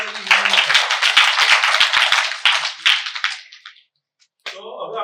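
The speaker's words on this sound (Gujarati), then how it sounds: "તાળી આપી દો" Students in a classroom break into loud, close clapping for about three seconds, which fades to a brief silence before voices pick up again.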